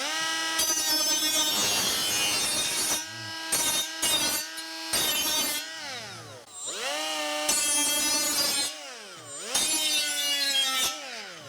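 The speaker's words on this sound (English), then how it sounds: "now I've switched over to a coarse grit sanding wheel right here to take the burr off" A coarse grit sanding wheel on a Milwaukee M12 Fuel tool grinds the burr off a metal gardening tool blade: a harsh, loud grinding whine with strong ringing tones, in long bursts that break off briefly and sweep up and down in pitch.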